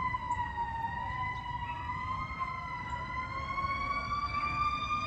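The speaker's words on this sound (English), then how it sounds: "Excuse the sirens. Let's let them go past." Wailing emergency vehicle sirens sweep slowly up and down over a low rumble of traffic as they pass, steady and moderately distant, with no voices.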